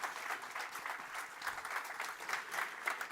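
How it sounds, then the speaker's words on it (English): Warm applause fills a conference hall, a crowd clapping steadily and evenly, heard from some distance and fairly faint. "if you can give a warm applause to Dominic"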